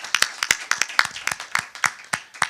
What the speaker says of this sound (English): Let us kindly give them another round of applause.